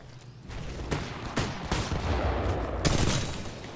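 Dense, sustained gunfire from a Titanfall 2 online pilots-versus-pilots multiplayer match on the Exoplanet map, with overlapping bursts and sharp individual shots running continuously and loudly throughout.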